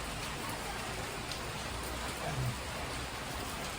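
Steady rain falls on a rainy day in the Philippines, a dense, even hiss of drops with no pauses and no voices.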